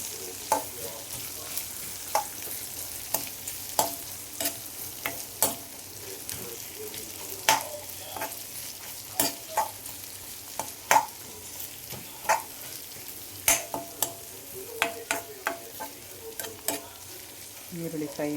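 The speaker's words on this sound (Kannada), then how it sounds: "ಈರುಳ್ಳಿ ಫ್ರೈ ಆವಡು ಕೊರ್ಲುಡು." Onions fry in a pan for pepper chicken, a soft steady sizzle close by, punctuated by frequent sharp scrapes and taps of a spoon stirring against the pan.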